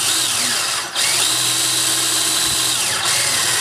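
A power drill whines loudly and steadily as it drills metal, its pitch sweeping as it bites, with two brief stops and restarts.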